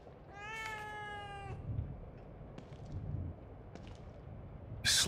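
A cat meows in The Evil Within 2 horror game, one drawn-out, clearly pitched meow near the start, followed by quiet ambient rumble and a sharp noise at the very end.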